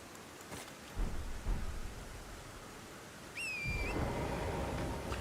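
Rain falls steadily in Elden Ring, with low rumbles of thunder early on, then the downpour swells louder partway through as a bird call whistles briefly overhead.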